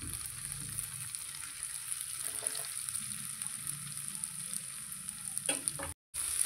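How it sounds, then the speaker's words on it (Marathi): Coarsely ground fennel, kasuri methi, chilli powder and a little salt fry in a pan, a steady quiet sizzle running throughout with a brief stir near the end. "हे सगळे मसाले छान फ्राय करून घ्यायचे"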